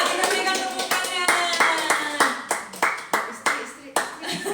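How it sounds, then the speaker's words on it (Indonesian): A church congregation at a Christmas service claps in a quick, fairly even rhythm, a dozen or so distinct hand claps in succession, moderately close and clear. "Untuk Ibu Heli Triana kita berikan tepuk tangan"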